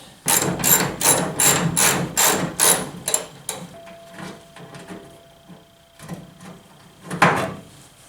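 A ratchet and 13mm socket loosen a mud flap bolt under a vehicle fender, with a rapid run of sharp, evenly spaced clicks that slows into scattered, fainter clicks and handling noises.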